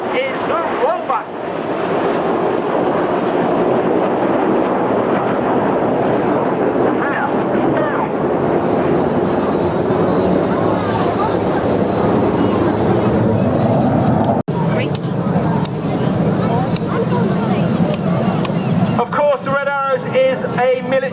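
RAF Red Arrows jets fly the rollbacks manoeuvre at a Clacton-on-Sea air show, their engines a steady, loud, wind-buffeted roar from start to finish, with a voice talking over it.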